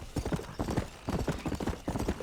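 Horse hooves galloping in the video game Red Dead Redemption, a rapid rhythmic clip-clop in repeating bursts, close and steady, with a faint neigh, no talking.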